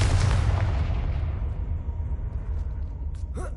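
A Confringo blast spell explodes in the video game Hogwarts Legacy, a loud booming burst with a long rumbling decay that fades over a few seconds, with a faint mechanical creak near the end.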